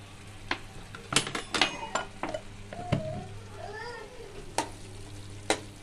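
Pav bhaji spices stirred in a hot pan, with sharp spoon clicks against the metal at irregular intervals over a low sizzle, and a cat meowing softly a few times in the middle.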